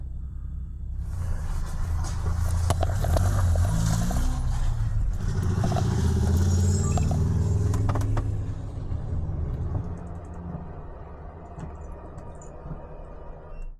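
Several cars drive slowly around a campsite at night, a loud close engine rumble with clattering and rushing tyre noise that holds for several seconds before fading away into quiet.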